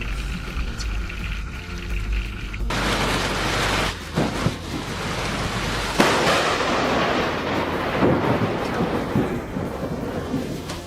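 Thunder from a lightning strike on the water right beside a fishing boat during a storm: a sudden loud crack at about three seconds, then a heavy rolling rumble with more sharp cracks, continuing over steady rain and wind noise.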